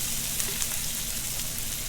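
Half a yellow onion sizzling in a pan for a shrimp and asparagus stir fry, a steady soft hiss of frying with faint crackles throughout, moderately quiet and close, with no voices.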